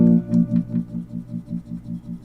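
Electric guitar chord with light tremolo, its volume pulsing in a steady, fast wobble of about eight beats over two seconds, clear and alone.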